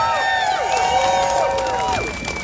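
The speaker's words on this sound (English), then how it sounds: "Let's give him an extra round of applause." A crowd at a farmers' protest rally in Edmonton applauds, with dense clapping mixed with shrill whistles and cheers throughout.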